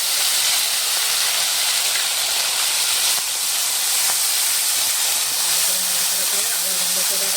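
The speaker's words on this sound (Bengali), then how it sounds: "জিরে আদা বেটে রেখে টমেটো দিয়ে দিচ্ছি।" Tomatoes with green chilli and a ground cumin-ginger paste sizzle in hot oil for a thin tilapia and potato fish broth, giving a steady, loud, close hiss that runs unbroken throughout.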